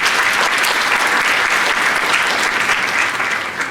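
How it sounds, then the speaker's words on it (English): Students at a National Honor Society induction ceremony applaud their parents, a thick, even roar of clapping from a large audience that holds steady throughout and eases slightly at the close. "So students, if you don't mind, give your parents an applause."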